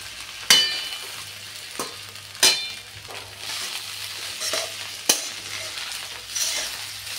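Poha and grated ginger fry in a hot pan while a spoon stirs and scrapes, giving a soft continuous sizzle broken by several sharp clinks of metal against the pan.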